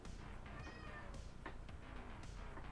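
A cat meows loudly a few times, drawn-out and insistent, over a steady background hum.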